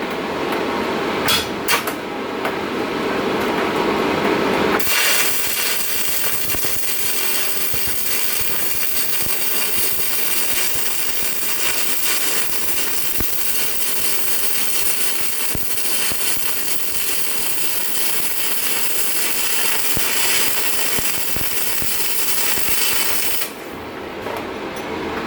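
A stick welder burns an old 6013 rod on quarter-inch steel, giving a loud, steady crackling hiss that starts abruptly, runs for about eighteen seconds with constant sputtering pops, then cuts off into a quiet room.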